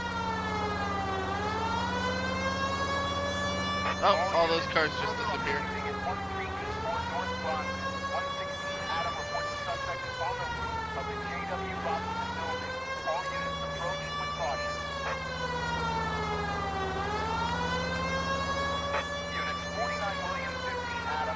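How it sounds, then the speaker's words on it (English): A police car siren in the video game L.A. Noire wails loudly and continuously, rising and falling in long, regular sweeps, with a voice talking over it. "The siren is so fucking loud."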